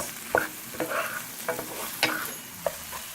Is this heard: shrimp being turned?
yes